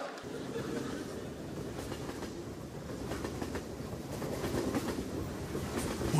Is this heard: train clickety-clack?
yes